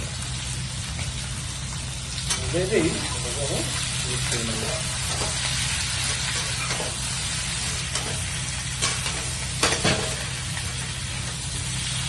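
Potatoes frying with cumin, chilli and coriander, a constant soft sizzle with faint stirring scrapes and a low hum throughout, with brief clinks from a utensil now and then.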